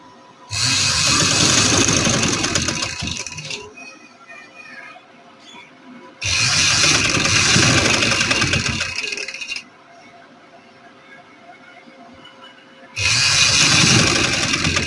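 A sewing machine runs a straight stitch attaching lace to a kurti, whirring in three loud, close bursts of a few seconds each, separated by quiet pauses.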